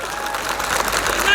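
Audience applause and clapping for a speaker at a Hindi poetry recital, a broad steady wash of many hands that swells slightly toward the end, with talk mixed in.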